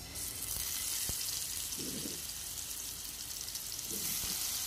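Hamour fish shallow frying in coconut oil in a pan, a steady continuous sizzle with a couple of faint clicks, close and even throughout.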